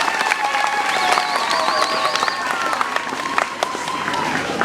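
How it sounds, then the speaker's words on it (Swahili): Applause and cheering from a crowd at a school celebration dinner honouring Malinyi Secondary School in Tanzania, a steady wash of clapping with some voices and whistles rising above it throughout. "Piga makofi kwa Malinyi Sekondari."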